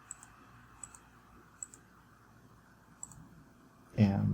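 Sharp computer mouse clicks while working in SolidWorks 2019 assembly software, four isolated light clicks spaced irregularly over a quiet background, followed by a louder burst of noise at the end.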